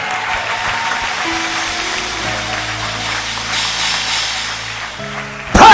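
Congregation at a charismatic church service applauding steadily with scattered cheers, a sustained crowd wash with a low musical drone beneath, ending in a sudden louder burst.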